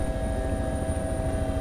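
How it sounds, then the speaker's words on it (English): A helicopter in the DayZ Expansion Mod video game, heard from inside the chopper as a loud, steady rotor thump over a droning engine hum and a high whine, continuous throughout. "No, we're in the chopper."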